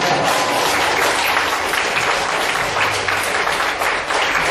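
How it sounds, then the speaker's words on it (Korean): Dense, steady applause from an audience at an author talk and Q&A session fills the whole span, loud and continuous with a faint murmur of the crowd underneath. "박수로 한번"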